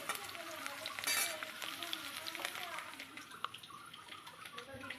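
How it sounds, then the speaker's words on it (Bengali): Potatoes fry in oil until reddish, a faint crackling sizzle with light clinks of stirring, while a voice talks quietly over it. "আলুটাও একটু লালচে করে আমি ভেজে নেব এখানে"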